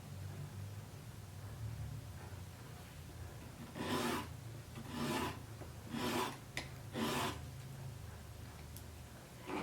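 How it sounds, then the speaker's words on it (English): A knife blade drawn across a sharpening stone at a guided 20-degree angle, making four distinct rasping strokes at a steady rhythm, close and clear over faint background hum. "it's guiding me in to the stone so that I have the correct angle for sharpening"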